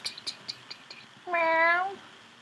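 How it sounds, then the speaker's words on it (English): Stanley the cat gives one clear, close meow after a few soft taps and small sounds, the cry rising and falling for about half a second. "There, that's a cat."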